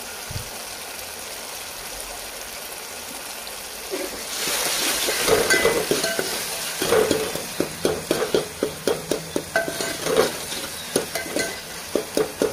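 Tomatoes with turmeric and salt frying in a pan for a Marathi okra curry, a soft sizzle swelling after a few seconds, then steady stirring scrapes recurring in a quick, even rhythm, close and alone with no voice.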